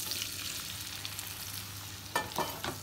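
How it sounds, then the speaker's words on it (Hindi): Chopped tomatoes sizzle in melted butter in a pan for Mumbai-style pav bhaji, giving a soft steady crackle that turns into a few sharper stirring clatters near the end. "अब हम इसमें कटे हुए टमाटर ऐड कर देंगे।"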